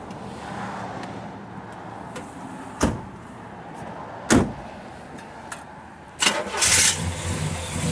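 A 1966 Chevrolet Chevelle SS 396 convertible with an aluminum intake and mild cam cranks and fires up nearby, with a few sharp clunks before the V8 catches and settles into a rough, loud idle.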